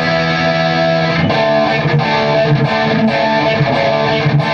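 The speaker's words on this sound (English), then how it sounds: "you hit the blower switch and it goes straight to the bridge pickup, full volume, straight to the output jack." Distorted electric guitar on a Suhr Guthrie Govan signature model, switched to the bridge pickup at full volume, with sustained overdriven chords and notes ringing loud and steady throughout, with no talking.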